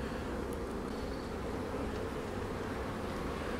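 Bees hum in a continuous, low, even buzz, with no voices and no break in the drone.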